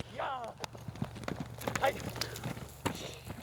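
A local horse from the Kara-Koy mountains clip-clops in a few uneven hoof knocks while someone talks over them and another voice chimes in.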